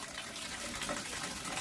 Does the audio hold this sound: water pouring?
yes